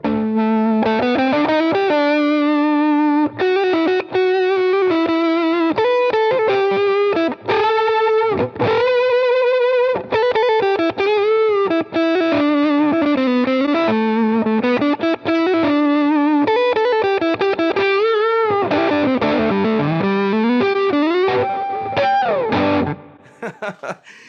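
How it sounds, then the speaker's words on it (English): A fuzz-distorted electric guitar, a 1954 Fender Stratocaster on its neck pickup with the tone rolled down, plays a warm, rounded melody with sustained notes and bends, loud and continuous, tapering off near the end. "if you have like a fuzz pedal and you get down to the neck pickup and roll it down"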